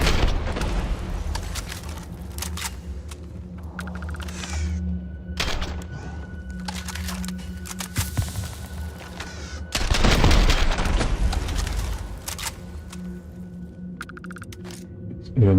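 Rapid gunfire from a high fire rate weapon in the Starfield video game, bursts of sharp shots and booms that come and go over the stretch, with a heavy louder burst near the middle and game ambience between.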